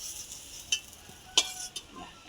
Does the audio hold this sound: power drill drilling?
no